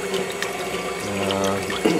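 Water, milk and oil poured into a bowl with yeast for ciabatta dough, a continuous close splashing, trickling stream with slight changes in pitch, moderately quiet, no talking.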